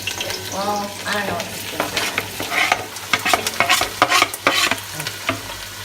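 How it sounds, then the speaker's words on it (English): Onions fry in preheated oil for mujadara while being stirred in the pot, a close crackling sizzle broken by scraping stirring strokes, with voices talking over it. "Okay, now she's going to keep stirring the onions till they're like cooked."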